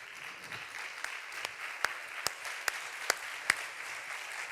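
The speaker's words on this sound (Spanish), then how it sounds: "Vamos a recibir en este escenario con un fuerte aplauso a Carmelo Florido." Audience applause welcoming a speaker onto the stage at a talk on Canarian gastronomy in Gran Canaria, a steady wash of clapping marked by a few sharper, louder individual claps near the microphone.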